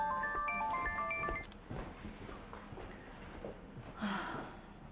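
A phone ringtone plays a short melodic tone pattern for just over a second, then stops, leaving quiet room noise and faint movement.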